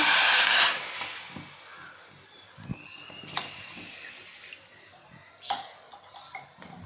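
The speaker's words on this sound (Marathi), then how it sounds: "2 ग्लास पाणी घेऊया" Two glasses of water poured into a pot of sugar to start a syrup for rava gulab jamun, a loud rushing splash at first, then scattered light metallic clinks and stirring in a quiet kitchen.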